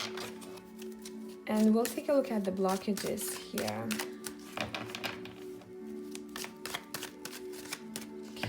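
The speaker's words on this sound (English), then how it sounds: "I'm gonna shuffle on camera" Tarot cards shuffled by hand during a career and financial card reading, riffling and clicking in short bursts close by, partly under calm speech and soft background music.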